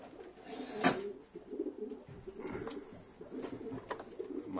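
Male pigeons cooing in a loft, low murmuring coos repeating unevenly over a few seconds, moderately close, with faint rustling and a brief knock in the background.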